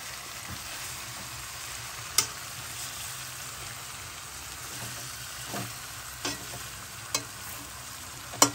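Chicken leg pieces deep frying in oil, a soft, even bubbling hiss with a few faint clicks and knocks now and then, heard alone.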